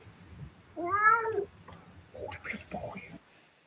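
A cat gives one clear drawn-out meow up close, with people talking and laughing around it in a home.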